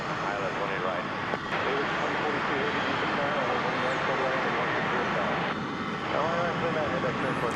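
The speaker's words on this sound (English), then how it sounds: "Here's that Dreamliner." A Boeing 787 Dreamliner jet passes at DFW airport as a steady, broad roar holds throughout, with a voice talking faintly underneath.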